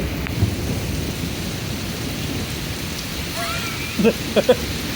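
Steady heavy rain hisses throughout a strong thunderstorm in Pittsburg, Kansas, with a low rumble of thunder, and a few short sounds near the end.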